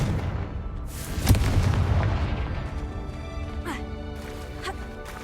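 The Confringo spell in Hogwarts Legacy sets off a single booming explosion that rolls into a long, decaying rumble, followed by fainter crackling bursts.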